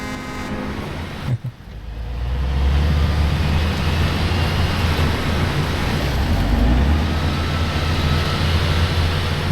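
A heavy truck engine in the Snowrunner game, set in Scandinavia, roars loud and steady as it revs up after a brief dip, then holds a deep continuous drone.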